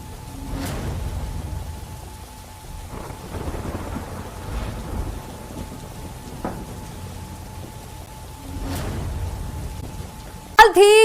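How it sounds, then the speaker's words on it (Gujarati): Steady rain falls over villages of Kamrej in Gujarat, a continuous broadband wash with a few brief louder bursts and a faint tonal hum running through it. "કામરેજના ધોરણ પારડી, ઘલા સહિતના ગામોમાં વરસાદ વરસ્યો"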